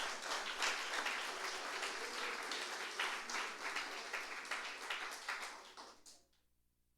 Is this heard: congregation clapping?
yes